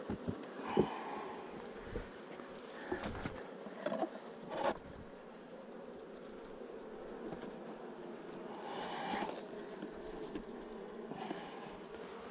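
Honey bees buzz around an opened, struggling hive during an inspection, a faint, steady hum with a few soft, breathy puffs and rustles close by.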